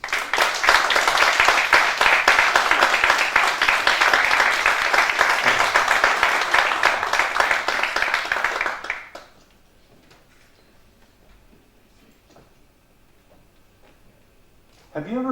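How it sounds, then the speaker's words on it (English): Audience applause for Fred Jones at an Agora talk, dense and loud for about nine seconds, then stopping abruptly into near silence. "Please, round of applause,"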